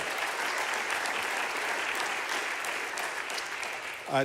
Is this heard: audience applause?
yes